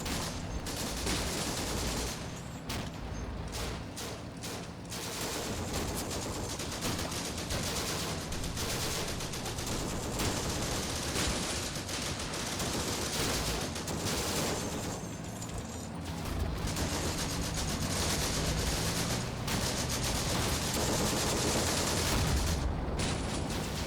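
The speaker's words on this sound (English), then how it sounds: "Things are firing away at the enemy" Continuous battlefield gunfire in the wargame Combat Mission: Afrika Korps, dense overlapping rifle and machine-gun bursts with occasional heavier booms, steady and loud throughout with no talking.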